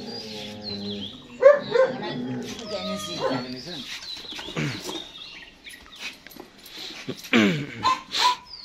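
A black German Shepherd puppy whimpers and gives a few short yips amid faint bird chirps and quiet background voices.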